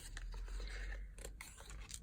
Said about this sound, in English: I might just use these scissors. So I'm going to cut this one in